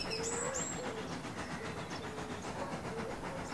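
A steam locomotive runs along a coastal line with a steady, rhythmic chuffing and rolling rail noise that carries through the whole stretch, plus a brief higher whistle-like tone early on.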